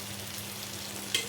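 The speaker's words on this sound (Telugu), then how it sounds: "ఇలా పైనకెళ్ళి కొంచెం ఆయిల్ వేసుకోవడం వల్ల అది ఇంకా మంచిగా ఫ్రై అవుతుంది." Food frying in a little oil on a grill pan makes a soft, steady sizzle, close and alone, with a faint low hum beneath.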